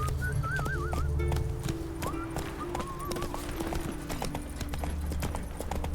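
Roach the horse gallops in The Witcher 3, hooves pounding in a fast steady clip-clop close by, with a neigh-like tonal whinny near the start and brief faint calls layered over a constant ambient rumble.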